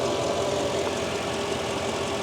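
A large V8 car engine that has just had an oil change idles in a steady, even rumble, moderately quiet and continuous, with no voices over it.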